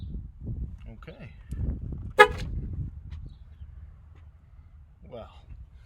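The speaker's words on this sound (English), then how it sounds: "that'll make the horn sound" A car horn gives one short honk partway through, standing out above low background noise and murmuring voices.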